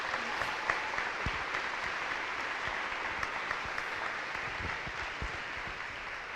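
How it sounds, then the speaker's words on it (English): Steady applause from an audience at a school awards event, a dense wash of clapping hands that holds at an even level throughout without voices on top. "Let's give them another round of applause."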